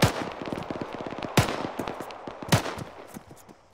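Bursts of automatic machine gun fire in the Arma 3 military shooter, rapid sharp rounds in quick rhythm with a few louder, heavier reports standing out, fairly close and without speech.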